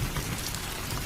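Steady rain sound effect in a Bengali ghost cartoon, a dense continuous hiss of falling rain with a low rumble underneath, close and even throughout, with no voices.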